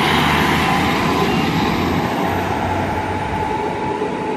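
A London Midland Class 150 diesel multiple unit running through Bromsgrove station, a loud, steady rumble and drone of engine and wheels on the rails, close by and unbroken throughout.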